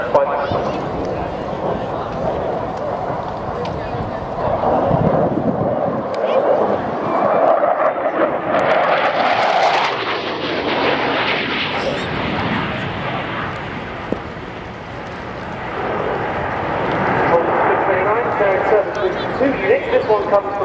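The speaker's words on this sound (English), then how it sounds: "conduct a high-speed pass, maximise high speed over the ground with the line" A Polish Air Force MiG-29 Fulcrum jet makes a high-speed pass at an airshow, its loud roar swelling and sweeping past, then fading under steady commentary over a public address.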